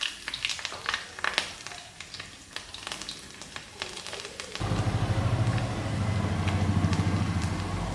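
Garlic dropped into hot oil in a pan alongside ground mustard, fenugreek and nigella seeds; scraping and clinks come first, then a sudden, steady sizzling hiss that holds close and fairly loud to the end.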